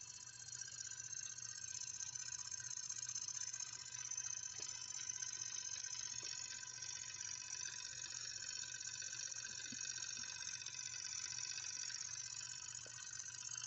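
A miniature steam engine running on compressed air runs steadily with a fast, even mechanical chatter and hiss, continuous throughout with no pauses, close up.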